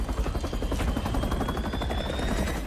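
A helicopter's rotor chops rapidly and loudly, a dense pulsing thud that fills the space in a Gears of War video game cutscene, heard close and alone.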